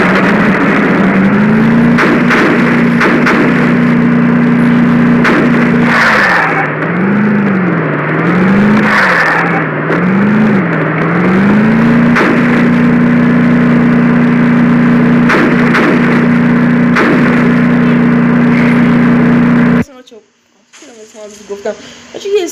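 Car engine in the Free Fire game drives at a steady drone, its pitch wavering up and down mid-way as the vehicle maneuvers, then cutting off abruptly near the end into quieter game sounds.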